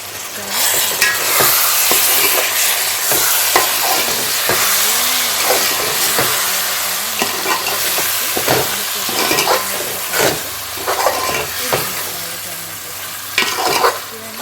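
Boiled eggs frying in a pan for an egg gravy give a loud, continuous sizzle and hiss, with repeated clinks and scrapes of stirring throughout. There is no talking.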